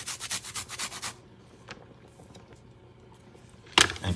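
Minced fresh garlic rubbed by hand into a pork loin: about a second of close, rhythmic rubbing strokes, a quiet stretch with faint handling, then a sudden louder scrape of rubbing near the end.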